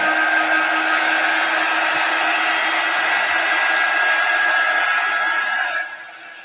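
Hair dryer blowing on chalk paste over a transfer, a loud, constant close-up drone that holds steady for about six seconds before dropping off near the end.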